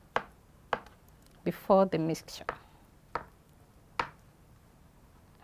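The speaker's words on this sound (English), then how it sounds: "Now we're chopping the eggs." Knife chopping boiled eggs on a board, a few sharp separate thuds spaced across the moment, with a brief burst of speech in the middle.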